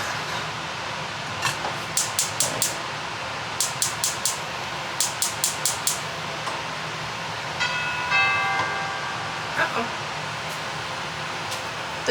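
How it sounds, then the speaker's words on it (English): A doorbell rings in a home kitchen. It sounds as bright, repeated bursts of chimes in several clusters over a steady background hum, followed by a faint drawn-out tone. "the doorbell just rang"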